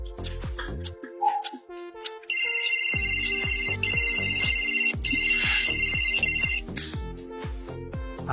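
A phone ringtone plays a repeating electronic melody in steady bursts over a drama music bed, loud and close, with no talk during the ringing.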